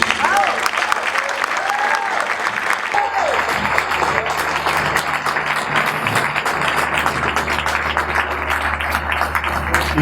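An audience at the Lead Summit applauds loudly and steadily for about ten seconds, with a voice speaking over the clapping near the start.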